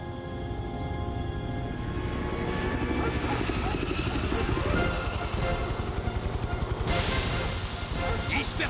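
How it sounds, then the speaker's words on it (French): A cartoon helicopter flies in an animated action show, a steady loud rotor drone and whine building and holding throughout, with a sudden hiss of noise near the end. "un des hélicos des Barracudas se dirige vers les Rangers"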